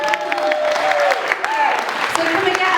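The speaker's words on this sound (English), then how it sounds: "Round of applause, please." Short burst of audience clapping and light cheering at a comedy school show, fairly close, with voices talking over it.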